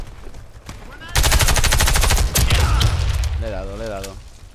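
Rapid automatic gunfire in the video game Warface, a loud sustained burst of closely spaced shots lasting a few seconds, briefly interrupted, with a voice talking over the end.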